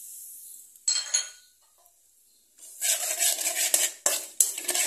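A spoon stirs and scrapes kasuri methi in a hot tempering of oil in a pan, giving soft sizzling and a series of clinks and scrapes against the metal, close and fairly loud, with a quiet pause partway through.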